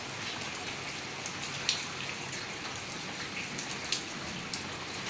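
Steady rain pours down outdoors while a child bathes in it, a dense, even hiss of drops striking surfaces with a few brighter splashes standing out, continuous and fairly close throughout.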